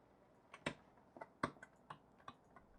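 Fast, irregular clicks of a computer keyboard being typed on furiously during a Kerbal Space Program multiplayer session, about eight sharp keystrokes in under three seconds, faint and somewhat distant.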